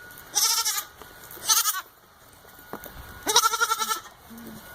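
Farm goats bleat three times in loud, wavering cries, with quieter pauses and faint background noise between them.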